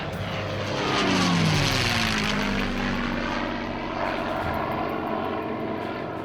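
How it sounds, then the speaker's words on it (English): Low-flying German fighter planes pass overhead, their propeller engines swelling to a loud roar and then fading into a steady drone. "the first signs of enemy activity were German fighters flying low"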